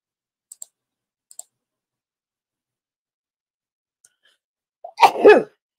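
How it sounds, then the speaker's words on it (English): A few faint, quiet clicks come first, followed by a single close, sharp human sneeze at the end. "I have a sneeze coming."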